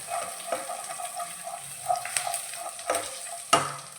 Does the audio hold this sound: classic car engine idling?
no